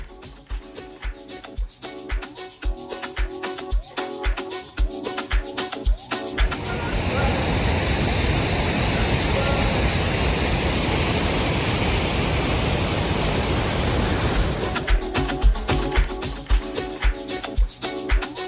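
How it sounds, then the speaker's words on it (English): Powerful Zambezi River waterfall in rainy season, a dense steady roar of crashing water that swells up between about 6.5 and 15 seconds, with quieter mixed outdoor noise before and after. "All right, finally made it to this falls."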